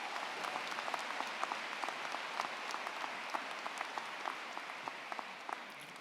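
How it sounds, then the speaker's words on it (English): Audience applause for the graduating class of 2022 at a commencement ceremony, steady dense clapping from a large crowd with a few sharper individual claps standing out, continuous throughout and moderately distant. "So give them a round of applause for that."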